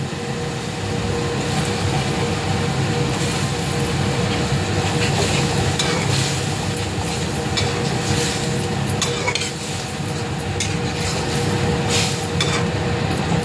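Fish dropped into a hot pan of oil for a radish-greens curry sizzles loudly and steadily, a dense continuous crackle with faint stirring scrapes throughout.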